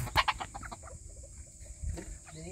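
Several short chicken clucks, fairly close, in a quick burst at the start, then quieter scattered clucks and rustling over a low background.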